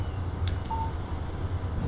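Phone text message alert in the video game Alan Wake, a short faint electronic chirp and tone heard once over a low steady background hum.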